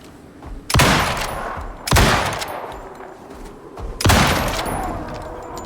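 Three loud rifle shots in a video game, each a sharp crack with a long echoing tail, spaced unevenly about a second or two apart, with no talk.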